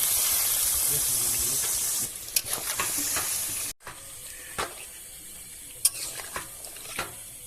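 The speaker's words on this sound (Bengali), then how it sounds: "এবার আমরা গ্রেভি করার জন্য জল দিয়ে দেবো পরিমাণ মতো।" Water is poured into frying chicken curry for gravy at an outdoor night picnic: a rushing pour hisses for a few seconds, then cuts off to quieter sizzling with occasional stirring knocks.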